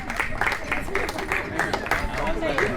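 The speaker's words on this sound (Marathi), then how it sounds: "चला टाळ्या वाजा." An audience at a felicitation get-together claps steadily for about three seconds, a dense patter of many hands with voices mixed in underneath.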